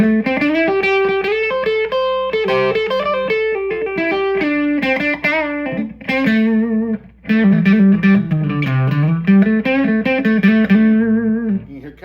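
A 1996 Gibson ES-175 with P-90 pickups plays a strummed and picked rhythm through a pushed, lightly overdriven amp, sustained chords and bass-string runs sounding loud and continuous with no talk.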